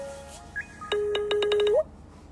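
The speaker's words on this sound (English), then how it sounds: "So my alarm just went off, and I just cut that off as well." A phone alarm goes off with a short electronic tone melody that rises and falls, a run of quick beeping notes close to the phone, then it cuts off into quiet.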